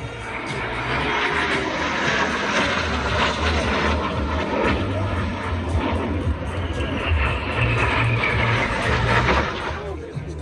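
Propeller aircraft at an air show fly past with a sustained, rising and falling engine drone that stays loud throughout, mixed with crowd and outdoor ambience.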